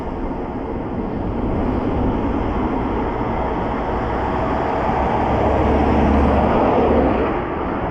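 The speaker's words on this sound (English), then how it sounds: "these cars are so loud. Not even by the engine noise, by the stupid road noise." Steady, loud roar of tyres on a road as cars pass close by, a broad continuous rumble that swells slightly toward the end and then eases, with no voices over it.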